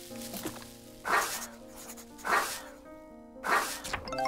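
A small pumpkin puppy creature in the pixel-art RPG Little Witch in the Woods gives three short, bright barks at an even pace, each a quick yelp over a steady bed of game music.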